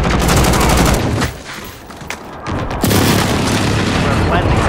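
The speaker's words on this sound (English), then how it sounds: "Enemy precision airstrike," Heavy precision airstrike explosions in Call of Duty Modern Warfare boom loudly in a rapid, rolling barrage. A brief lull falls midway before another dense burst, with game voices faintly underneath.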